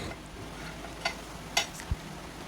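Beaten egg mixture poured into a hot pan gives a soft, steady sizzle, broken by a few light clicks and a dull knock of the pan.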